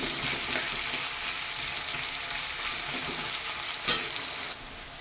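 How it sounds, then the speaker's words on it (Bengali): Onions frying in a pan until browned give a steady, close sizzle with occasional stirring scrapes and one brief sharper clink. "পেঁয়াজগুলো আমি লাল লাল করে ভেজে নেব"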